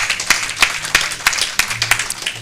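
A small group of people at a general meeting of a professional institute claps in a loose, uneven rhythm, with distinct individual hand claps standing out close by rather than forming a dense roar.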